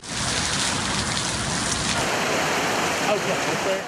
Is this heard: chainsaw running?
no